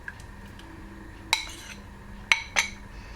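Spoon stirring corn flour paste into a boiling lemon pie filling in a pan, a few sharp metallic clinks against the pot over a soft simmering background, close and otherwise quiet.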